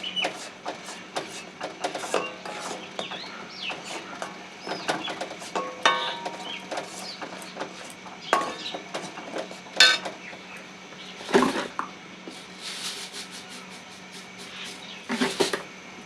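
Rice flour mixture is stirred in a pan, with frequent clicks and scrapes of the spoon against the pan and a few sharper knocks over a faint steady hum.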